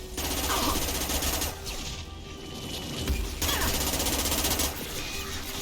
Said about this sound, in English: this SMG has too much recoil for me